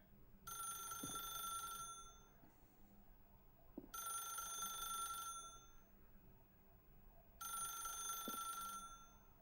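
A telephone rings in The Stanley Parable video game, giving three long electronic bell bursts of about two seconds each, separated by pauses, clear and steady with no talk over them.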